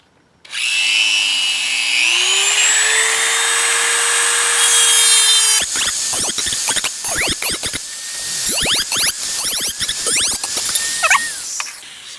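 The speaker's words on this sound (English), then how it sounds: "I got a Dremel tool. That's what I'm going to try and use." A Dremel rotary tool grinds down plastic legs, first a long steady high whine with a shifting pitch, then choppy, uneven bursts of grinding and scraping as the bit bites into the plastic.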